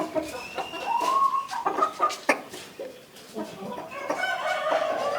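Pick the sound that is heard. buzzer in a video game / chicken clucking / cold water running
chicken clucking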